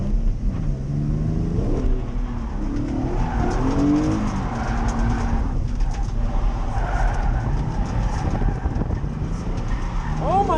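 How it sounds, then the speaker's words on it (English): A car drifting at a drift event, its engine droning loudly throughout with tyres squealing in wavering, rising and falling streaks, and a sharp screech near the end. "We're out here. Drifting."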